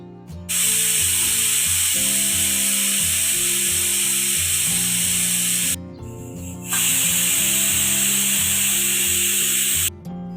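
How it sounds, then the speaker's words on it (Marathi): A pressure cooker with mutton for rassa inside lets out long, loud hissing steam whistles, two sustained blasts separated by a short pause, over steady background music. "कुकरच्या शिट्या होत आहेत आणि कुकर थंड होत आहेत"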